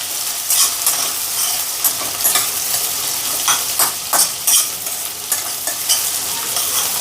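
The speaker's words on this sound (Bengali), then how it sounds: "গোটা গরম মশলা তেজপাতা পেঁয়াজ দিয়ে ভালো করে পেঁয়াজটাকে আমি একটুখানি ফ্রাই করে নেবো" Onions with whole garam masala and bay leaf fry in hot oil for rui mughlai, a continuous crackling sizzle broken by repeated, close scrapes and knocks of a spatula stirring in the pan.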